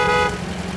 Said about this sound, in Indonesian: Kemencet klakson.